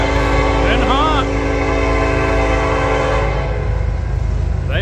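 CSX Herzog train rolling past with a Union Pacific locomotive sounding its horn, a loud sustained blast over a heavy rail rumble, with a voice speaking briefly over it.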